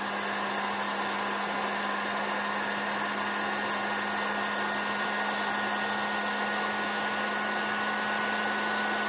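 A hot air gun blows on a cool setting at a radio circuit board, removing jumper bridges, with a constant, loud whooshing hiss and a steady motor hum, unbroken and close, with no talking.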